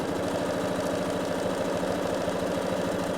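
A sewing machine runs steadily, stitching down both sides of a four-layer fabric handle for an ironing and cutting station; a constant, even mechanical hum with a fast regular pulse fills the whole stretch, close and uninterrupted.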